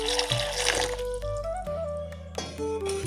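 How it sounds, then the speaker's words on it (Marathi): Water runs and pours into a bowl of bhokar fruits, a steady trickling splash close by with shifting gurgles as the bowl fills. "त्यात घालणार आहोत आपण थोडं पाणी"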